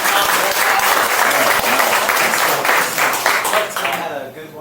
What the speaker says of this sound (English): if we give him a round of applause.